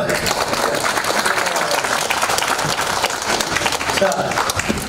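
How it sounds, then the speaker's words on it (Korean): Big round of audience applause at a natural history museum talk seminar after a standing group cheer, loud and dense from a crowd, with some voices mixed in over the clapping. "큰 박수 한번 주십시오"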